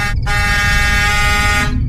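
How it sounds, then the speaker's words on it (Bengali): A loud bus horn blares in one long continuous blast after a brief initial toot, close and dominant, cutting off abruptly. "সঙ্গে সঙ্গে শোনা গেল খুব জোরে বাসের হর্ন"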